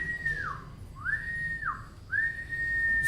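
Three rising whistles in a row, each a clear sustained tone that slides down at its end, spaced evenly over a few seconds with no voices.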